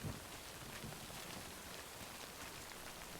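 Steady Timefall rain from the video game Death Stranding, a constant broadband hiss of falling rain at a quiet level with no voices over it.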